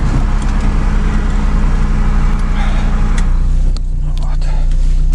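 A car engine runs loud and steady in a snowy spot near a frozen lake and glacier, a constant close rumble that shifts slightly in tone near the end.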